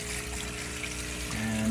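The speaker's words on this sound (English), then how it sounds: "And that's going to suck the water out of the fish tank." Water drains from a fish tank through an opened valve, making a steady close trickling and gushing rush that keeps on throughout.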